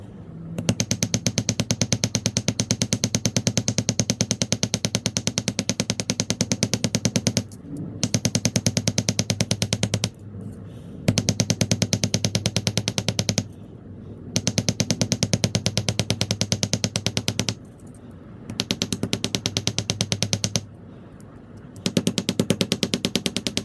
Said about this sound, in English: So I let the weight of the hammer do most of the work.